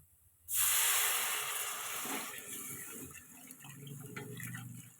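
Hot water pours suddenly into a pan of simmering masala gravy, a loud rushing hiss and splash that gradually eases into softer bubbling and sizzling.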